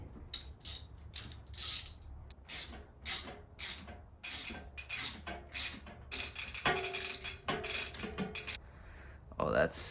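A hex key tightens Yoshimura Chilao flat pedals on a Commencal Clash mountain bike, giving a series of close, sharp metallic ratcheting clicks in short repeated bursts.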